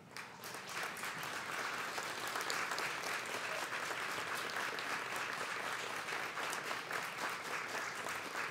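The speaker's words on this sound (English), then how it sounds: "now I would like you to please share your appreciation through a vigorous applause" Sustained vigorous applause from a large audience at a community college Arts & Sciences commencement ceremony, dense even clapping continuing for several seconds, heard at a distance in a large hall.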